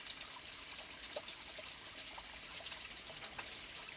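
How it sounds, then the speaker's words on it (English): Water trickles and gurgles through ancient irrigation channels fed by the Sataf spring, a steady faint babbling flow with small splashes and no voices. "These are the ancient irrigation channels bringing water from the Sataf spring down to the terraces where the crops are being grown."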